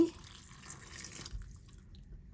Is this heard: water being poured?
yes